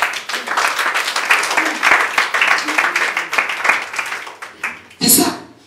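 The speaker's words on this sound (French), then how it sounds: "Acclame Jésus." Applause from a congregation at a church service, a dense steady wash of many hands clapping for several seconds, rising to a brief louder burst near the end.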